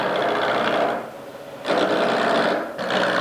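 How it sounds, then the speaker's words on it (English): A wood lathe spins timber while a roughing gouge takes light, gentle cuts, giving a close scraping whir that fades briefly in the middle and returns twice in strong bursts. "I've gone to cutting this section of my roughing gouge, I should say, because it's the smallest cut, the gentlest cut."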